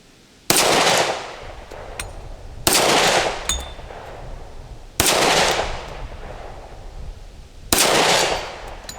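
An RIA Rock Ultra FS Hi Cap 10mm double-stack 1911 pistol fires four loud, sharp shots outdoors, spaced a couple of seconds apart, with each crack followed by a long, fading echo.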